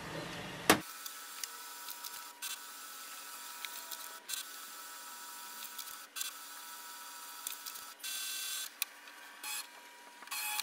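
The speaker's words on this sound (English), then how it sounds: "Click on the blue icon and it will start the scanning process." An HP OfficeJet 8010 printer scans pages, giving a sharp click and then a long quiet whirring hum of the moving scan head, broken by several short mechanical bursts and motor pulses, with no speech.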